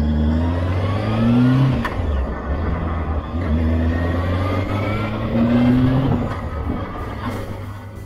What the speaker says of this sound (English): We are going to test ride this bike, this beast.